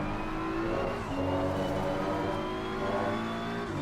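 Race car engine in a sim racing game at Misano, a sustained loud drone with shifting revs and tonal whine throughout, continuous and close with no talk over it.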